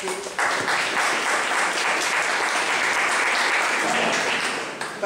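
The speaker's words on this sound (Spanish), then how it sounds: "el cual le damos un fuerte aplauso" An audience at a criminal law specialization course session in Peru gives a lecturer, Dr. Mario López, a strong round of applause, steady and full throughout before tapering slightly at the close.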